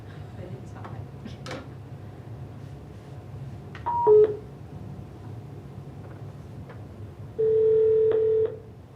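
Telephone dialing tones from a call being placed during a school board work session, a couple of short tone bursts followed by a longer steady tone, heard over faint room noise.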